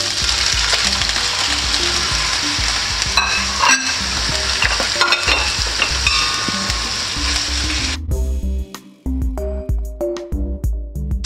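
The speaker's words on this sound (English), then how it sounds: "it's time to add the shrimp because the oil is now hot" Shrimp fry in hot oil beside pasta boiling at low temperature, a loud, close sizzle with stirring scrapes and clinks, then a sudden drop to quieter crackling and intermittent utensil taps.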